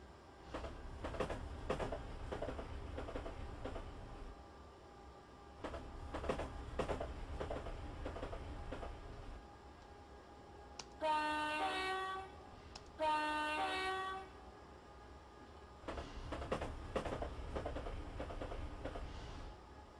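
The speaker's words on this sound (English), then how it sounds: "Not great acceleration on these electrics, at least not Electrostars. But it's a passenger train" Electric Electrostar passenger train in Train Simulator 2015 on a London to Brighton route, with a steady rumbling run broken by two loud horn blasts near the middle, each sounding about a second, then the rolling drone resumes.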